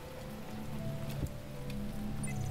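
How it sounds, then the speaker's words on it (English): Constant rain patters in the video game The Talos Principle, a thick, even wash of falling drops under faint sustained background tones and a few soft clicks, with no voices. "Can it stop raining, please?"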